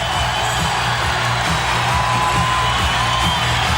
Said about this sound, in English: Listen to the crowd in Portland. They want their team to come back.